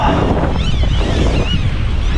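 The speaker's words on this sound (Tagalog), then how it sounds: "Grabe nga yung alon" Strong wind buffets the microphone over choppy waves slapping around a kayak on open water near Edmonton, Alberta, a loud continuous roar with no pauses.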